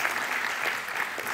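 A church congregation claps during a Sunday sermon, a short, steady burst of many hands at moderate loudness with no voice over it.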